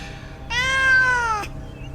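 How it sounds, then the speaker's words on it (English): A cat lets out a single long, shrill meow lasting about a second, close and clear against a quiet background. "One last shrill cry of my meow"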